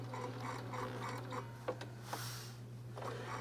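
A sewing machine stitching along a marked yellow line on a quilt block triangle, running quietly with a steady motor hum and soft rhythmic ticking, plus a few small clicks as the fabric is handled.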